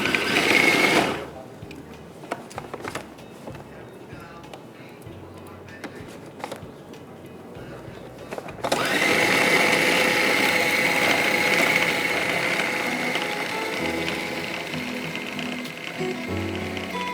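An electric grinder grinds a chicken tikka shami kebab mixture in a kitchen, bursting in loud and steady after a quieter stretch with brief knocks and talk, then whirring on continuously.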